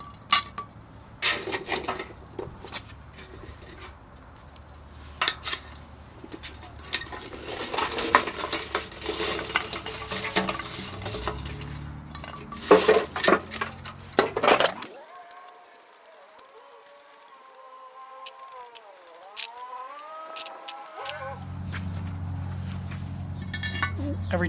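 Charcoal briquettes set with tongs onto and around a cast-iron Dutch oven while baking peach cobbler, giving scattered metallic clinks and clatter over the first half, followed by quieter background noise.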